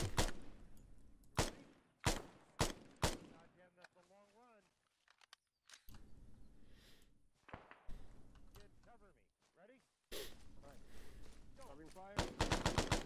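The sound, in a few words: gunfire down a street in video game Arma 3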